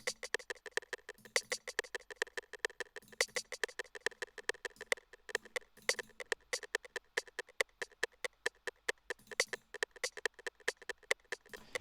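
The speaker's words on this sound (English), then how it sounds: "So this would be the metronome" Fast, steady metronome clicks tick on without pause, with occasional accented beats, crisp and close, no voices.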